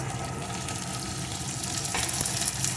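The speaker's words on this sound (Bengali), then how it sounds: "জাস্ট একটু এইভাবে নাড়িয়ে নেব একটু নাড়িয়ে নিলাম" Onion, chilli and vegetable scraps being stirred briefly in a frying pan, a continuous dense sizzle with light scraping of a spoon, fairly close and even, rising slightly toward the end, with no talking.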